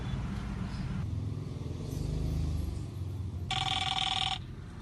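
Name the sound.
telephone ringing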